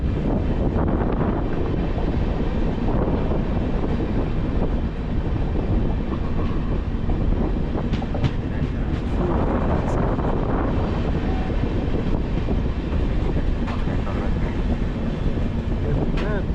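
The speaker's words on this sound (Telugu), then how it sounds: "so Khanapur station దాటిస్తాం super" Garib Rath express train running past Khanapur station on the Visakhapatnam to Secunderabad route, a steady loud rumble of wheels and carriage with wind buffeting the microphone throughout.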